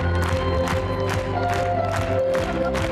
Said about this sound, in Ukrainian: Зал гуде від овацій.